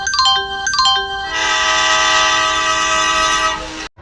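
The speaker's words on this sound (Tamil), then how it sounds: "ஏங்க ட்ரெயின் வந்துருச்சுங்க சவுண்ட் எஃபெக்டோட." A train horn in the game Indian auto simulator sounds in two short blasts, then holds one long loud blare over rumbling wheels before cutting off abruptly.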